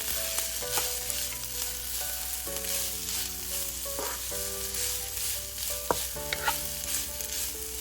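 Chicken soup with a pinch of Kashmiri red chili powder sizzles steadily in a pan while being stirred, with soft scraping and occasional clinks of the spoon against the metal.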